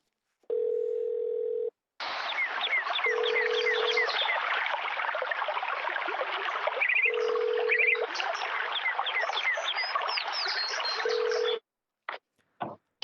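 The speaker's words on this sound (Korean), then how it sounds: "저희가 바로 전화 걸어보도록 하겠습니다" Telephone dial tone and a burst of touch-tone dialing placing a call on a Korean church radio program's phone-in quiz, steady tones broken by clear beeps, then a few short clicks near the end with no talk.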